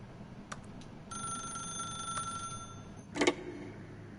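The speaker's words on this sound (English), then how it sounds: "then pick up the phone" A telephone rings in The Stanley Parable, a bright electronic ring held for about two seconds between shorter chirps, then a sharp clatter near the end like the receiver being lifted, all fairly quiet with no talk.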